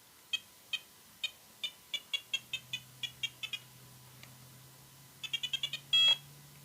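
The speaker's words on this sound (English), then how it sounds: "you hear the beep, you know you're in the center" Short electronic beeps from a Flysky FS-G7P seven-channel surface radio transmitter as its trim is adjusted, a steady series of faint, evenly spaced tones, then a quick burst of rapid beeps and one longer tone.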